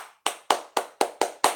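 Seven sharp hand claps in a quick, even rhythm, close and crisp, with nothing else heard around them.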